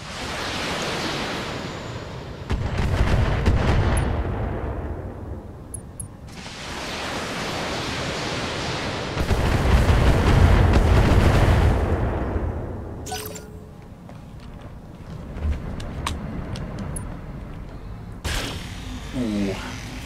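Heavy mech weapons fire in the BattleTech Heavy Metal campaign, with loud rumbling broadband bursts of autocannon and missile fire hitting in several waves, plus brief clanks between salvos.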